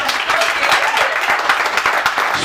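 A comedy club audience applauding, a loud, dense wash of many hands clapping close by, steady and sustained across the whole moment.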